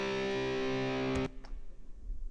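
A sustained electric guitar chord rings out with reverb added in a mixing setup, then cuts off sharply, leaving a brief faint reverb tail lingering.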